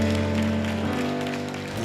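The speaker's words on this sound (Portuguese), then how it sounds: "Você pode aplaudir ao Senhor." A church congregation claps briefly over sustained musical tones during a worship service, the applause dense and fairly loud before easing off.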